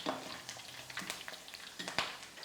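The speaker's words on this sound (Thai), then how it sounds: "การที่เราทอดใบเตยก่อนนะคะ จะทำให้น้ำมันมีความหอม" Pandan leaves frying in hot oil for Thai rice cracker snacks, a soft continuous sizzle with scattered crackles and pops, fairly quiet and close.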